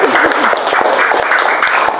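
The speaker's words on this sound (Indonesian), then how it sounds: "tepuk tangan buat Rahmat" A classroom of students clapping for a classmate during a Pancasila education lesson, a steady, fairly loud burst of applause with some voices mixed in.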